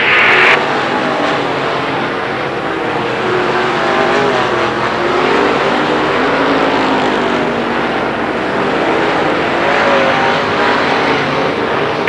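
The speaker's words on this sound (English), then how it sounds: "Geisler continues to hang on the outside of the Speedway, but Dick Martin down low" Late model stock cars racing in a feature at Lernerville Speedway, 1994, with a Ford among the leaders; loud, continuous engine roar from a pack of cars circling close by, steady throughout without a break.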